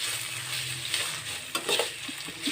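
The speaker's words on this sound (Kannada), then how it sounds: "ಈರುಳ್ಳಿ ಹಾಕ್ಬಿಟ್ಟು ಚೆನ್ನಾಗಿ ಈ ಥರ ಬಾಡಿಸ್ಕೊಳ್ಳಿ." Onions sautéing in a pan just after mustard seeds have popped in the oil, a steady frying sizzle with intermittent scrapes and clinks of a spoon stirring, close and alone.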